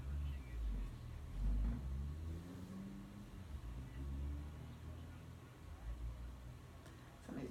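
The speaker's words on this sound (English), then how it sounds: "somebody's doing something with the car out there" A car engine revs somewhere outdoors, low rumbling surges rising and falling at a distance, with faint background noise.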